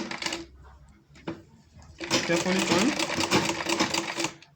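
A sewing machine stitches leather for a wallet, with a short burst early on and then a longer steady run of rapid mechanical stitching, heard up close over some background clatter.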